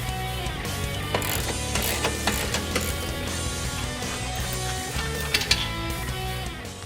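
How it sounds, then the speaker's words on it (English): A ratcheting wrench works loose a subframe bolt on a 2013-2018 Ford Focus ST during an air suspension install, giving steady close mechanical clicking and grinding over a dense workshop din. "Now we're going to remove one of the subframe bolts."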